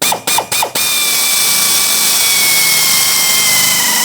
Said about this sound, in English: I'm going to drill out the center first.